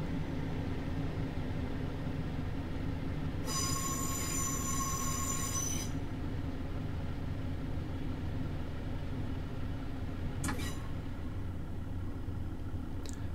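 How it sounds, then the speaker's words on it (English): A train in Train Simulator 2021 coasts slowly across a junction on the Derwent Valley line from Nottingham to Matlock, with a steady rumble and a loud, sustained wheel squeal partway through, then a short clatter over the points. "I'm just going to allow the train now to coast across the junction."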